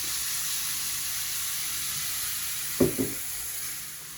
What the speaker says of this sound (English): we've been pan frying our prawns for around about 2 minutes